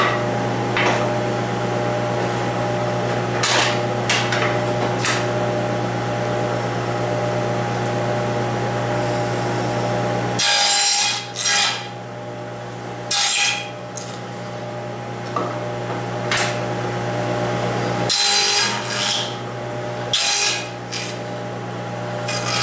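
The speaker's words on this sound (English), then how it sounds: "so all we have to do now is cut the tongue itself" Wood is being cut to form a half-inch tongue along the edge of a flat cabinet door panel, a loud, steady rasping roar over a low hum that drops out briefly a few times before resuming.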